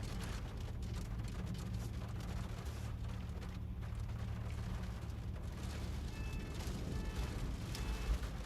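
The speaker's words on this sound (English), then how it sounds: "Now it's raining." Steady rain falls through a big California storm, a dense, constant wash of broadband patter with a low rumble underneath, heard alone with no talk.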